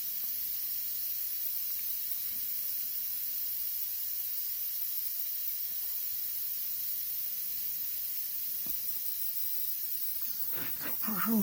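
A rebuilt air compressor hisses steadily as its pressure bleeds down, a continuous broadband air rush held at an even level for about ten seconds before a short thump and rattle near the end.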